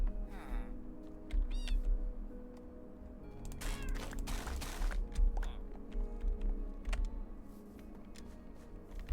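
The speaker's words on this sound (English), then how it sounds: "we got a baby calico cat" Several short meows from calico cats, including a baby calico, in the video game Minecraft, scattered over a quiet ambient background with faint clicks.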